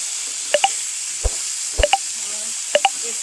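Okra and fish curry stirred in a pan, giving three close pairs of soft wet squelches and light clicks spaced evenly apart over a quiet background, with no voices.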